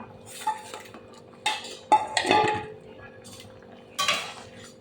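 A pan of hilsa fish heads with green chilli being stirred, giving several sharp metallic scrapes and clatters of a utensil against the pan, spaced out over a quiet background.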